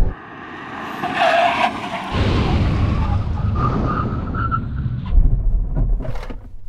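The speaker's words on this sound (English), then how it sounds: "Now we're going to have a brake test from 100 miles an hour." A car brakes hard from 100 miles an hour, tires hissing and skidding as the roar fades, ending with a few sharp squeaks as it comes to a stop.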